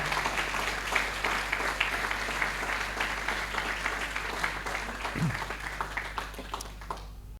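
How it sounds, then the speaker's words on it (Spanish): A church congregation applauds loudly and steadily, a dense sustained wash of many hands clapping together throughout. "Denle un fuerte aplauso a Él."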